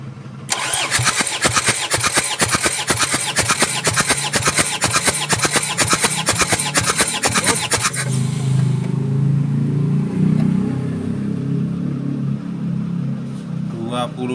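An Isuzu Panther diesel engine is cranked by its starter during a compression test: a loud, rapid, steady chugging fills the first eight seconds, then stops, leaving a low rumble and faint voices.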